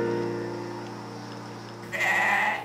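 A goat gives a single loud, wavering bleat near the end, following a stretch of quieter tonal background.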